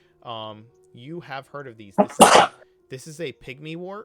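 One loud sneeze bursts out in the middle of speech, with people talking before and after it.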